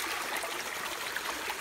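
A mountain forest stream flows steadily nearby, a soft continuous trickling and burbling of water with no voices.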